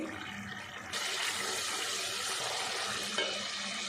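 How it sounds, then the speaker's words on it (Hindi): Onion-tomato masala frying in a pan for a white lobia (black-eyed bean) curry: a dense, even sizzle that swells louder after the first second and stays steady and close, with no talking. "मसाला हमारा अच्छे से फ्राई हो गया।"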